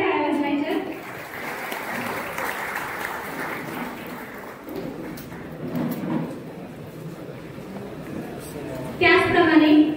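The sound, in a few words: audience applause at Ganesh festival prize ceremony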